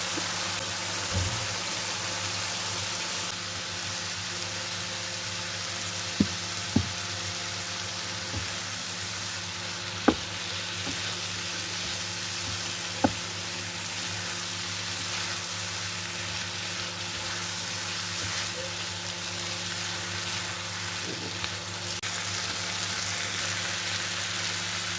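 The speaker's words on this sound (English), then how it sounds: "Then add potatoes and stir well." Potatoes frying and being stirred in a pan for aloo anday, a steady low sizzle running throughout with a few sharp clinks of a utensil against the pan.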